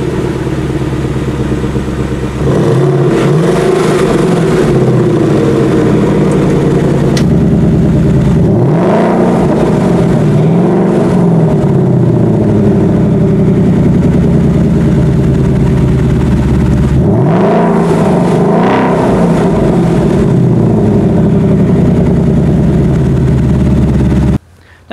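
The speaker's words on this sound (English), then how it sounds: "a clip I did last year on the GT where we had one with this active exhaust" A 2019 Ford Mustang GT's V8 engine with active exhaust idles with a deep rumble, then revs loudly several times, the exhaust roaring and burbling as each rev falls back.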